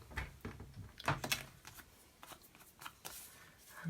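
Scissors snip through a strip of card for a kaleidoscope tile card, a series of close, crisp cutting sounds and rustling paper handling.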